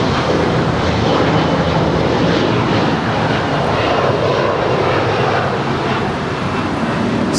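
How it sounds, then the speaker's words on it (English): A China Airlines Boeing 777 airliner at LAX gives off a steady, loud jet roar with broad rushing noise that holds evenly throughout, without speech. "It's China Airlines Flight 5 heading back to Taipei."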